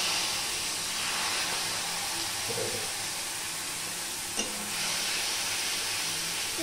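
Ridge gourd curry fries in a pan with cumin, turmeric and chili, sending up a continuous close sizzle and hiss, with a brief utensil tap partway through.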